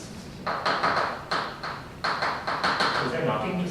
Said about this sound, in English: Was that knocking just now?